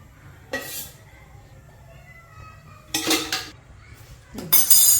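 A pan clinks and scrapes in a kitchen as oil goes in for a tadka in jowar idli chutney prep, three short metallic bursts of cookware handling over a quiet background with no talk.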